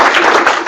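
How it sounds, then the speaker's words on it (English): Audience at a university teaching breakfast applauds a presenter after her talk, with a brief, loud, dense burst of clapping. "So another round of applause for Jaclyn for a fantastic"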